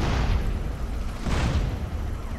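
A Volkswagen Beetle explodes in the video game GTA San Andreas, a loud, dense burst that fills the whole clip and surges again midway.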